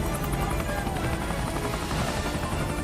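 A helicopter in a Godzilla film scene drones with a loud, steady rotor chop and engine roar, close and continuous throughout with no pauses.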